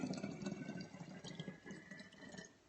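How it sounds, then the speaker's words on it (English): Water trickles through a funnel into a 32-ounce bottle while an all-purpose cleaner is being mixed, a soft, close pouring and dripping that fades slightly toward the end, with no talking. "So go ahead and put in half water, whatever that is for you."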